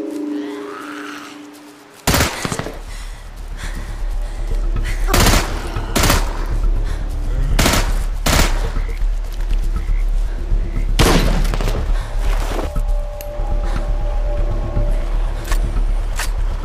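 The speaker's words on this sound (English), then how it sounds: "Did you hear that? Someone's shooting." Gunshots ring out in the zombie survival game Into the Dead 2: sharp, loud bursts and rapid volleys crack repeatedly over a rumbling background, some single blasts and some quick automatic runs.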